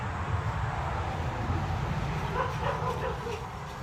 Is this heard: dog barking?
yes